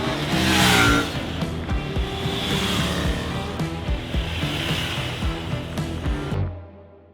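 A Triumph Tiger 900 Rally Pro motorcycle engine revs loudly and close, its pitch climbing through repeated throttle pulls and gear changes before cutting off abruptly at the end.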